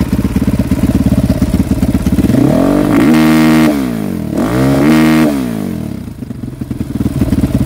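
A 450 ERZ motocross bike engine idles roughly, then revs hard twice up to the rev limiter, a loud, close, buzzing climb that bounces off the limiter each time before dropping back to a ragged idle.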